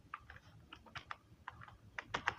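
Quick, light keystrokes on a computer keyboard while entering AutoCAD 2013 commands, with short irregular bursts of clicks close to the mic in a quiet room.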